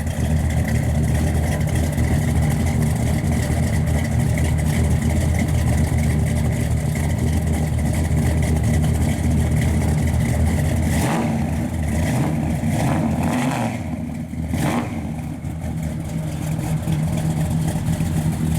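A 1967 Chevrolet Chevelle SS resto-mod's V8 with a thumping camshaft idles with a loping, uneven rumble, steady and close, with a few brief blips of revving toward the end.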